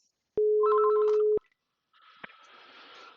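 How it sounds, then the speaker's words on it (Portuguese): A phone call rings out to extension 1000 over a VoIP system: one steady, loud ringback tone lasting about a second, then silence and a low hiss of line noise. "Vamos realizar uma ligação novamente para o ramal 1000"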